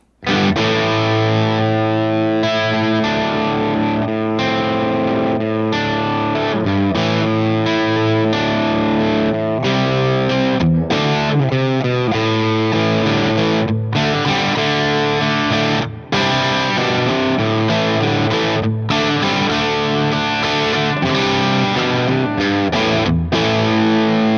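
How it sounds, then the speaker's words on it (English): Heavily distorted Yamaha Revstar electric guitar plays chugging chords and riffs through a high-gain amp, loud and continuous with short choppy pauses. "turning up the gain of the amplifier, giving a nice bite and power for the rock tones"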